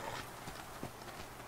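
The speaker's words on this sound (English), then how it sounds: "Alright, I hear you stomping around" Heavy stomping footsteps of a bear in the survival video game The Flame in the Flood, a few thudding steps at a steady walking rhythm over a constant game background.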